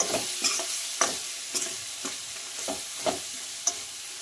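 Sambar masala, two spoonfuls, frying in a pan for hotel-style sambar, a steady soft sizzle broken by regular stirring scrapes and light clicks of the spoon against the pan about every half second, close and alone with no talk.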